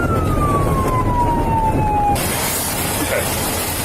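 An ambulance siren wails loud and close on a road, its tone sliding steadily downward before cutting off, leaving rushing traffic and vehicle noise.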